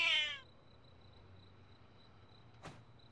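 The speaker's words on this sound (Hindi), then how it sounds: "ये एक जंगली बिल्ली है" A wild cat gives a single short, loud meow near the start, followed by a quiet room with a faint steady tone and one brief soft knock or rustle.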